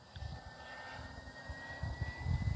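Hangar 9 Ultra Stick 60-inch electric RC airplane flying at partial throttle, a steady low motor drone heard at a distance outdoors, rising slightly in loudness toward the end.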